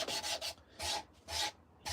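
Sandpaper rubs across a hand-carved wooden spoon in four quick, close rasping strokes with short pauses between them, crisp and alone without voices.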